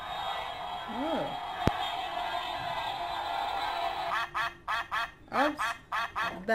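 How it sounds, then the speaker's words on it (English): A series of rapid, nasal duck quacks in quick bursts over a steady background hiss, with a couple of voice-like sounds earlier. "Duck. Duck."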